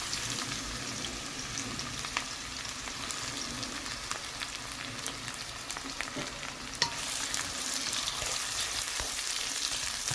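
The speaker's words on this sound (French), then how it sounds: "Je viens maintenant rajouter de l'oignon émincé." Sliced onion frying in three spoonfuls of oil in a pan for sautéed guinea fowl, making a loud, constant sizzle with crackles and stirring clicks that briefly jumps louder midway.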